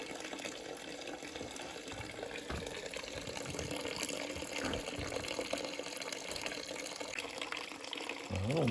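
Coolant drains from the radiator of a 1949 Farmall C tractor into a container in a steady, faint trickle and splash, continuous and fairly distant, with no talking.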